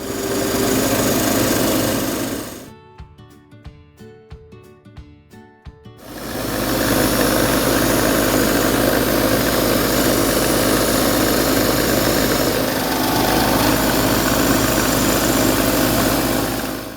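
Steady, loud machine whir of a wood lathe spinning a segmented ebony and olive wood pen blank as a gouge cuts it, broken by a few seconds of quieter, irregular tapping before the full turning noise resumes.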